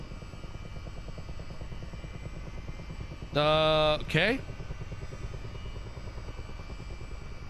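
A Chinook helicopter in Microsoft Flight Simulator 2024 runs with a steady, loud rotor and engine drone throughout, briefly overlaid by a short tonal alert and a spoken word from the player.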